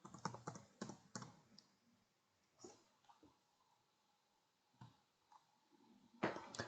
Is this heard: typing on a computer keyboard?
yes